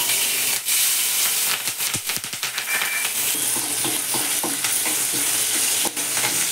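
Cumin seeds and plenty of thick green chillies fry in hot oil for a fasting dish, with a loud, close hiss and a scatter of sharp crackles and pops that thin out into a steady sizzle.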